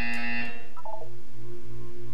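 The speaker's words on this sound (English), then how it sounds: "When you hear the buzzer, look up at the ceiling." A buzzer in the video game Portal 2, a loud electronic tone with bright harmonics sounding for about half a second, followed by a short descending blip pattern over a steady hum, with no speech.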